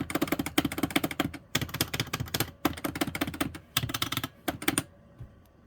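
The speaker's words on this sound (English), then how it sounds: "These have a whole lot more of that kind of plastic on plastic clacking sound." Seimitsu arcade buttons clack plastic on plastic in rapid bursts of sharp, close taps, several flurries separated by short pauses, loud and with no talking.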